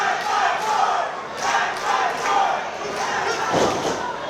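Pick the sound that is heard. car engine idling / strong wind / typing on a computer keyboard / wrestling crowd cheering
wrestling crowd cheering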